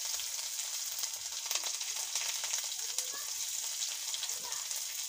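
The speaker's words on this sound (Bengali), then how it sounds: "আর এগুলো রসুন দিয়ে সম্বার দেবো।" Garlic tempering in a small amount of hot oil sizzles loudly and continuously, with bright crackles and spits over a steady hiss, heard up close.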